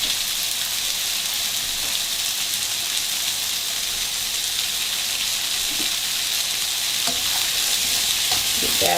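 Mushrooms tossed into a pan of fried brown rice with vegetables sizzle loudly and steadily, a dense hiss that holds throughout with faint stirring clicks near the end.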